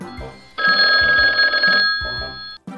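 A telephone bell rings loudly in a sustained trill for about a second, then rings again after a short pause, with faint background sounds between.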